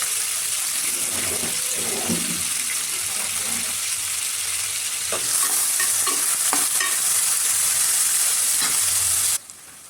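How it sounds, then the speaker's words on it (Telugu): Thinly sliced onions and green chillies sizzle steadily in a pan for a mutton gravy curry, with a spoon stirring and scraping through them now and then; the frying hiss is loud and continuous, then stops abruptly near the end. "ఉల్లిపాయలు, పచ్చిమిర్చి మంచిగా మగ్గేంత వరకు మధ్య మధ్యలో కలుపుతూ ఉండాలండి."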